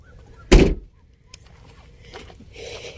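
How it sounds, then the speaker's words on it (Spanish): A pickup truck door slams shut once, a sharp loud thud close by, followed by quiet rustling and faint voices in a dark, still setting. "Cierren la puerta."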